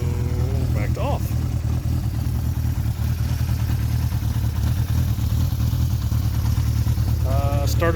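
A 1975 Honda CB550 Four motorcycle engine runs at a steady, close idle throughout, with a person talking over it.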